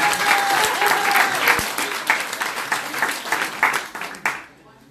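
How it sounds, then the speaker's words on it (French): An audience at a spiritual healing talk bursts into applause for a departing speaker, a loud dense wash of clapping with voices mixed in, tapering into a few last claps before quiet. "Applaudissez là parce que j'ai qu'une main."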